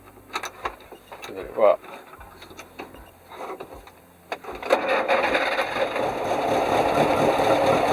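An old car with pull-out choke, ignition advance and starter controls is started: scattered clicks and knocks from the pulled controls, then the engine catches and settles into a steady, fairly loud running idle, with a brief French remark early on.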